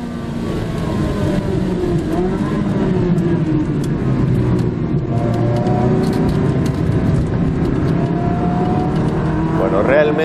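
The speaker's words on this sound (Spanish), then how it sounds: "tenés la posibilidad de subirte hasta 360 Módena, que suena más o menos así." A Ferrari 360 Modena's engine rumbles and revs loudly and steadily up close, a continuous throaty car engine tone with shifting pitch as it accelerates.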